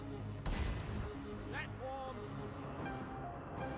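An explosion in Deep Rock Galactic is aimed at the base of a platform: one sharp blast bursts out near the start, followed by rumbling game noise and a few electronic tones, with a voice talking over it.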